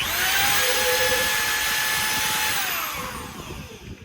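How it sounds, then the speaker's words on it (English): A power drill running in reverse whines steadily at close range, its motor pitch sliding slightly downward before the sound tapers off. "I'll reverse the drill."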